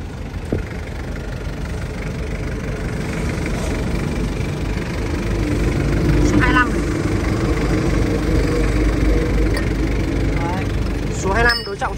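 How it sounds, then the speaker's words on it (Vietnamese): A TCM forklift with an Isuzu engine idles in a steady, continuous rumble, with a few brief higher squeaks or chirps over the drone. "Xe này thì chạy động cơ của xe 10 của Isuzu"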